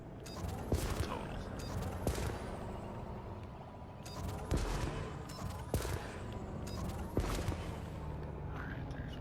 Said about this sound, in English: abrasion blasting, that takes a little while to learn too